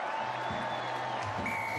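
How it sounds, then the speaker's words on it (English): Rugby league crowd at a Super League match between Catalans and Warrington roars and applauds after a try, a steady dense wash of cheering and clapping from a large stadium audience, broad and sustained throughout. "Well, that's got the crowd going."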